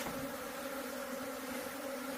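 Native honeybees swarm around a nest built inside a house, producing a steady, dense buzzing drone with no pauses, fairly quiet and uninterrupted by voices.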